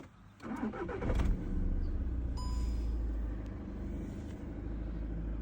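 A car bought in poor shape and just repaired, with new rear tires fitted, starts up and settles into a steady, close idling rumble that continues throughout.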